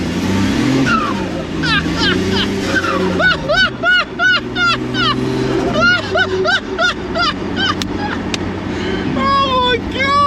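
A 2JZ-engined Ford Escort Estate revving hard with wheel spin on cold tyres, loud rising and falling engine pulls with sharp bursts, and people shouting and talking excitedly over it.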